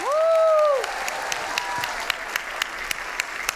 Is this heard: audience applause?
yes